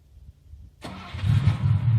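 A 1987 Ford Capri 280 Brooklands' fuel-injected Cologne V6 cranks and catches, then settles into a steady, loud, low rumbling idle after a brief quiet start.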